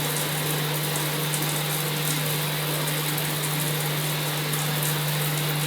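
Bristan Artisan Evo digital mixer shower running steadily on its eco flow setting, a continuous broadband hiss of spraying water with a steady low hum beneath, alone and unbroken throughout.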